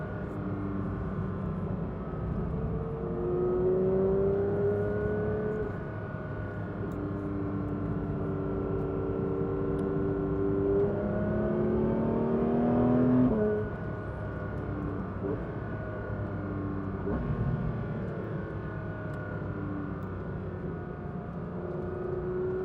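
The engine of a new Porsche 911 GT3 drones from inside the cabin while driving, a steady low rumble whose pitch climbs and falls through gear changes, with one sharp rise and drop midway.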